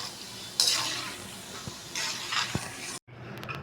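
Boondi frying in hot oil for a Diwali sweet, a bright crackling sizzle that surges in bursts with occasional stirring clinks, then cuts off abruptly near the end.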